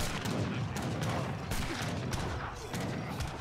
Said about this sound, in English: Dutch player seems to fire.